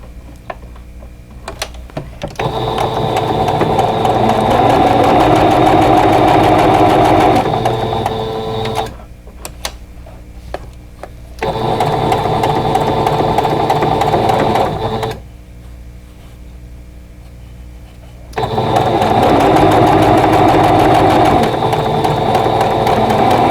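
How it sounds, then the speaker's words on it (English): Sewing machine stitching a quilt block in three close, steady bursts of rapid whirring, with short quiet pauses between runs and faint handling noise. "Now we're ready to sew."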